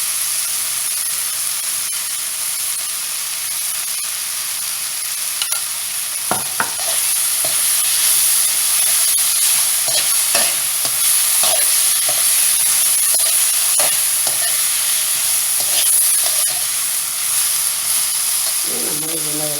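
Chopped ridge gourd sizzles and fries in a pan with tamarind for chutney, a constant loud hiss with scattered scraping stirs and occasional spatters, close up and without talk.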